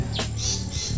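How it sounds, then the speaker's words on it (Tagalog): Birds chirp briefly in the background over a steady low hum, with a short bright burst of calls near the start. "Ayan ang ingay ng ibon."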